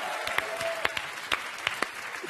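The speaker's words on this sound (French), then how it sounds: "Je voudrais qu'on applaudisse Bruno, parce que alors là, le Magnifique." A studio audience on a French TV quiz show claps briefly and fairly quietly, with scattered sharper claps standing out over a soft, short spell of applause.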